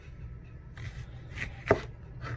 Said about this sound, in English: I'm just going to get my knife and cut a few slices